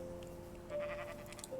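Sheep bleating in the video game Minecraft, one wavering synthetic bleat holding steady then rising, moderately loud over a quiet game background with no talk.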